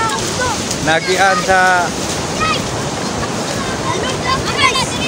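Strong floodwater rushes down from the mountains into a creek in Don Marcelino, a loud, steady roar of surging water with wind noise, while someone talks over it.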